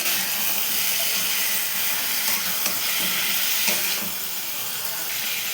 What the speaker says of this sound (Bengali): এবার ভালো করে কষাবো মশলাটাকে।